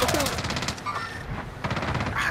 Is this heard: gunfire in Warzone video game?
yes